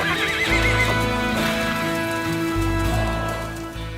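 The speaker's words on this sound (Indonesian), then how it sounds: "Ini namanya kuda Black Stallion, saudara. Kuda balapan." A black stallion racehorse neighs loudly and close by, a long whinny over the clatter of its hooves, with no talking.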